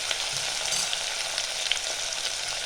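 White potatoes sizzle and fry in an open pressure cooker while being stirred, a steady, dense crackle that holds level throughout with no voices.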